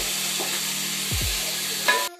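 Tomatoes frying in a pan for chicken fry, a steady close sizzle with a brief stirring scrape near the end.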